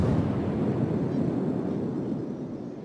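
Shell explosions in the naval combat game World of Warships, a sustained, dense low rumble of heavy bursts blending into one continuous roar, loud and close throughout with no voices.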